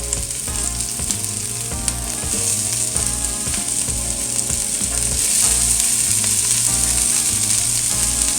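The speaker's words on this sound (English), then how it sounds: "Be sure they're sizzling." Onions sizzle loudly in hot vegetable oil in a pot, a dense continuous crackle and hiss with occasional stirring clatter, close and without talking.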